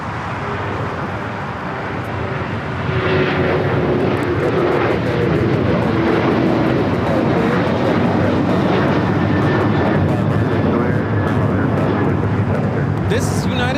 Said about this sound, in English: This is United Airlines 1293 taking off to Houston Intercontinental on the 737-900ER